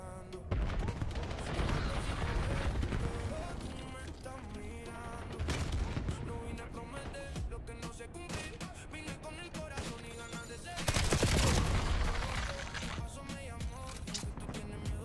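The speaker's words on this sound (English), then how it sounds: "This guy comes and just shoots me immediately" Gunfire in Call of Duty: dense bursts of automatic and single shots that come and go in waves, loud and close, with game music and effects running underneath.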